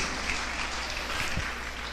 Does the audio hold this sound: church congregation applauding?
yes